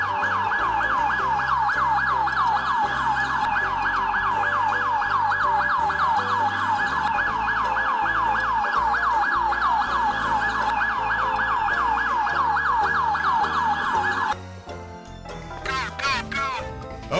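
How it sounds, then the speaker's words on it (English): A loud, close siren wails in a fast, repeating up-and-down warble, then breaks off into a shorter, wavering tone near the end. "Police car."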